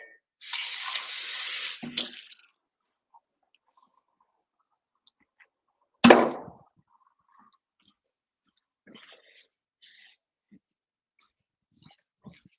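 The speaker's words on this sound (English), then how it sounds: "Let me get water one more time again." Tap water runs in a steady, fairly loud burst for about two seconds and then shuts off, leaving a quiet room with faint small clicks and one sharp knock partway through.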